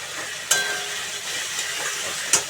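Spice masala fries in a pan with two small spoonfuls of sugar added, the base for a green jackfruit curry: a loud, continuous close sizzle runs throughout, broken by two sharp utensil clinks as it is stirred.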